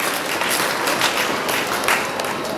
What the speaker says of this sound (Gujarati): હું ઈચ્છીશ કે તમે સૌ એમના માટે તાળીઓ પાડજો,